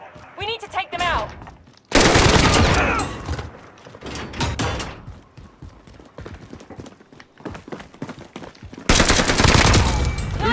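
Rapid bursts of automatic gunfire from Call of Duty: Warzone, loud and dense, with two long sustained volleys and scattered shorter shots and impacts between them.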